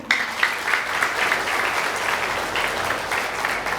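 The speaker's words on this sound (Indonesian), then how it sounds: "berikan tepuk tangan terbaik Anda kepada para panitia" Seminar audience in Bekasi applauding the organising committee, a loud continuous burst of many hands clapping that stays fairly even for nearly four seconds.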